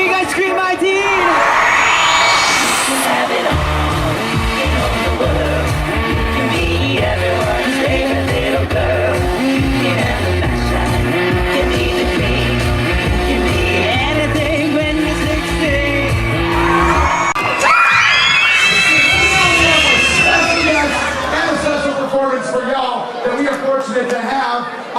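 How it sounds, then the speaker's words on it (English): A large crowd of teenagers screams and cheers loudly and without a break, with whoops and shouts over booming, thumping music and an amplified voice on a loudspeaker. "Let me hear you guys scream I-Teen!"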